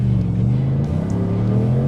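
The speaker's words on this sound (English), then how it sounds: "you just want to blip it all the time to make this engine sound like it does" A US-spec Chevrolet Colorado engine rumbles with a low, steady growl off-road, close and fairly loud throughout the short stretch.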